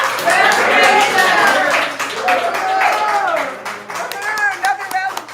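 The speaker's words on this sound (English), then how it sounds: "Another round of applause for President Kambai." Audience applause at a community center grand opening, loud clapping with voices talking and calling out over it near the start, thinning into scattered claps.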